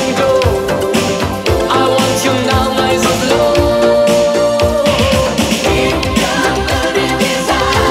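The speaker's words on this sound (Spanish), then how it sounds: "un cruce entre lo que venía del Italo Disco y de ese synth pop que tanto se llevaba" A mid-1980s Italo disco and synth-pop track plays from a vinyl record, loud and dense, with a driving beat, layered synthesizers and a sustained synth lead line.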